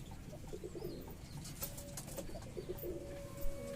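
Giribaz pigeons from Bengal coo in low, soft repeated calls close by, with brief brighter chirps and rustling mixed in over a steady background.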